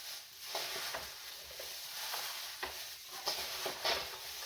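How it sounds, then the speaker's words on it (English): Beef searing in a pan with a soft steady sizzle, cut by repeated scraping and stirring strokes at an uneven rhythm, close and fairly quiet. "kind of dust this and sear it"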